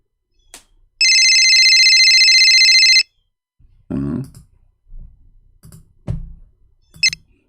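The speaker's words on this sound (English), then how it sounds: "This is his cell phone." A cell phone ringing tone plays loudly and steadily for about two seconds, followed by scattered faint clicks and thumps with no talking.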